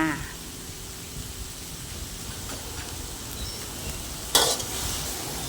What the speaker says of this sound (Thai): เราก็ผัดให้เข้ากันนะคะ ผัดให้น้ำตาลละลายนะคะ